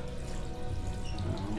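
An airplane lavatory toilet flushing, a continuous rushing water-and-suction noise, close and fairly loud, with no talking.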